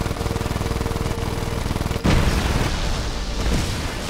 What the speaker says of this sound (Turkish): Sonucu da patladı.